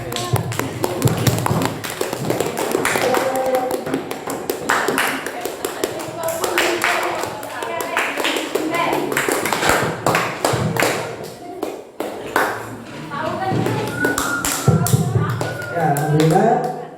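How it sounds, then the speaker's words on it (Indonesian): Classroom of students clapping for a group after its presentation, a dense patter of hand claps with irregular sharper taps and thumps mixed in, fairly close and continuous throughout. "tepuk tangan buat kelompok 1 ya"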